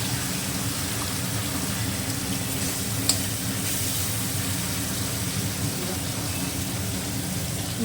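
Marinated hilsa fish pieces frying in hot oil in a pan: a constant dense close sizzle that holds evenly for several seconds, with one brief faint clink.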